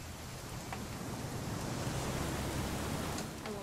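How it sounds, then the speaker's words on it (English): Rain falls steadily in the video game What Remains of Edith Finch, a soft, continuous hiss of moderate, even intensity with no voices. "It's going to rain the whole weekend"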